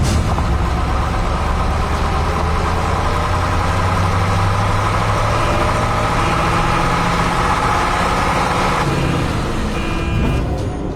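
A truck engine rumbles steadily and loudly throughout, a low continuous drone that stays close and holds its level until it eases near the very end.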